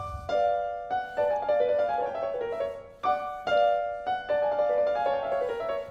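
Piano plays a repeating right-hand motif from Liszt's Sonata in B Minor, rising and falling notes struck in clear phrases that restart twice, moderately loud and alone.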